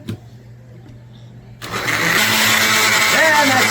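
A blender whirs up a dragon fruit power shot with water, switching on abruptly after a quiet moment and holding a loud, steady motor roar close by.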